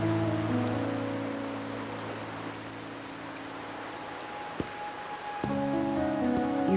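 Steady rain patters in a Wuthering Waves game scene, a soft continuous hiss on surfaces with faint background tones, no talking.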